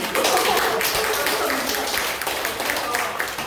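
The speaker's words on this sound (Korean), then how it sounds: "이럴 때 박수 한번 주셔야 돼요." A seated audience at a recruitment pitch talk gives a brief burst of steady clapping, a dense, even patter of many hands lasting a few seconds.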